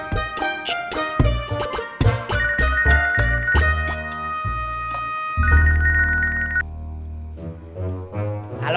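A telephone rings repeatedly with bright electronic bell tones, loud and close, layered over music and other ringing tones that run throughout.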